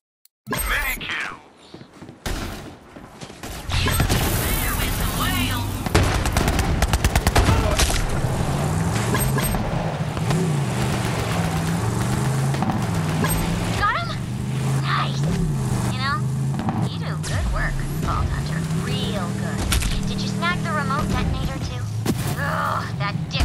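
Sustained rapid gunfire pours onto a janky wagon truck in the Borderlands 3 video game, a dense continuous rattle of shots under a droning engine, loud and close, with a few sharper bursts throughout.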